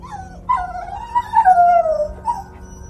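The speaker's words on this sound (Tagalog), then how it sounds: "Lumabas din bigla ang aso namin na tahol pa rin ang tahol." A dog whimpers and whines in a long, wavering high-pitched cry, nearby and alone, rising and falling in several drawn-out tones with a low hum underneath.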